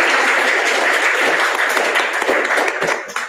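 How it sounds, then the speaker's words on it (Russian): Dense audience applause at a plenary session of a conference, steady and close for about three seconds before tapering off at the end. "Молодежь желает аплодировать"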